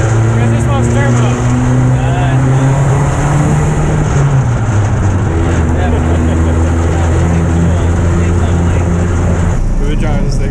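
A turbocharged dune buggy engine drones loudly while driving, its pitch dropping as it shifts and then holding steady. The engine runs close and continuous throughout.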